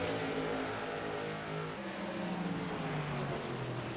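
Late model race cars of the iNRS Late Model Series roar around Thompson Speedway in a continuous, fairly distant engine drone that drops in pitch as the pack sweeps past, with no voices.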